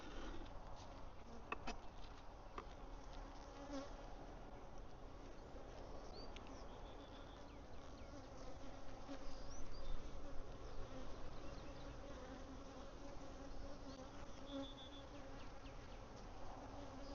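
Honey bees buzzing steadily around a hive that is being split, a dense, continuous drone of many wings close by, holding level throughout with brief swells in loudness and no talking.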